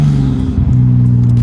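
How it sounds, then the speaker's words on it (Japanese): A turbocharged car engine drones close and loud with a steady, deep hum, holding nearly constant pitch apart from a brief dip midway, with no voices. "やっぱりターボの音が聞こえてくると人が"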